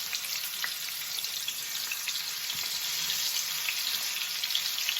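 Pork chops sizzle steadily in a hot pan, a constant crackling hiss with small pops, close by and without talk.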